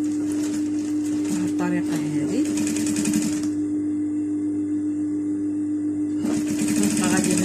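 A sewing machine stitches a seam on a long princess-cut coat, a steady loud mechanical whir with a constant hum, the machine running alone midway while someone speaks over it at the start and end.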